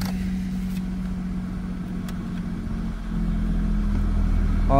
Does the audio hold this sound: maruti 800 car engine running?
yes